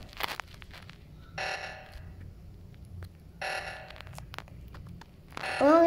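An Among Us O2 sabotage alarm from the video game sounds in repeated electronic blaring bursts, two clear pulses separated by quieter gaps, then a brighter tonal beep rising at the end.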